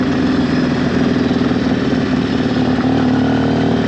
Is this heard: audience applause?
no